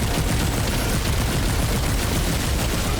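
Continuous rapid turret gunfire in the video game Remnant 2, a dense, steady rattle of shots filling the whole stretch with no pauses.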